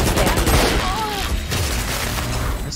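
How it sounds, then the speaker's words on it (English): A swarm grenade ability detonates in a tactical shooter video game, a dense burst of crackling pops and booms packed into under three seconds, loud and close, with brief voices underneath. "Swarm grenade out"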